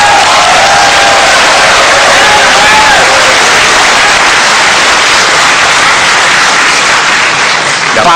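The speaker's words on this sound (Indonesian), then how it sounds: "Kita berikan tepuk tangan kalau itu." Audience applause at an Indonesian presidential debate, a loud, sustained wall of clapping from a large crowd that holds steady for several seconds with no talk over it.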